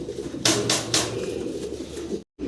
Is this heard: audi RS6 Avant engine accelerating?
no